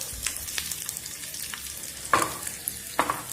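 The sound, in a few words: tempering spices frying in a pan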